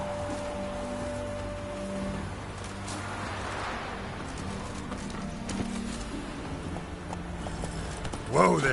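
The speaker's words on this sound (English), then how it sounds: "Whoa there, Roach." A horse gallops in The Witcher 3 video game, its rhythmic clip-clop hoofbeats running steadily over the game's ambient background.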